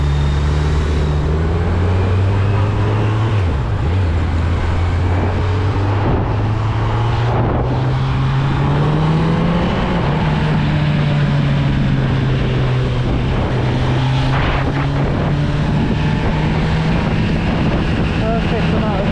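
A 2025 Kawasaki Z900 ABS motorcycle engine while riding, a loud, continuous low drone whose pitch rises and falls with throttle, heavily mixed with rushing wind noise throughout.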